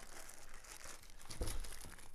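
Paper documentation from a MikroTik hAP ax2 router box is crumpled up, giving a soft continuous crinkling and rustling with a slightly louder crunch midway, close and fairly quiet.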